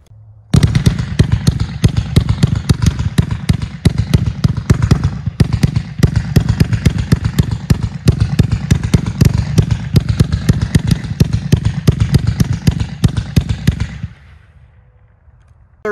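A 49-shot Colorful World of Ghost Mines fireworks cake fires as a fast, relentless string of loud cracking bursts lasting about fourteen seconds, then cuts off abruptly into quiet.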